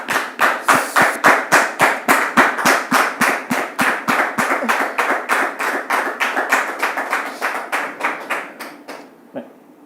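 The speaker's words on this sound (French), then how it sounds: "vous demander de le recevoir sous vos applaudissements." Studio audience clapping in unison, a fast, loud, regular rhythm of sharp claps that holds steady for several seconds before slowing and dying away, with some voices underneath.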